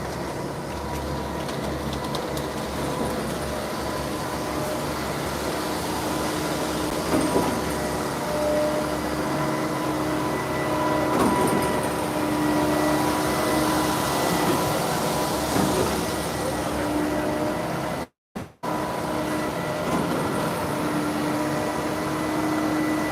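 A concrete pump truck runs steadily at a large pour, its engine drone and hydraulic whine continuous and fairly loud, with a boom reducing to a 4.5-inch pipe on the last stage and a brief dropout near the end.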